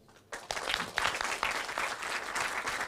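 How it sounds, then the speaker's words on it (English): Applause from participants and audience at a state-level youth parliament event, bursting in abruptly after a brief quiet moment and continuing as steady, moderately loud clapping to the end. "please give yourself a big round of applause"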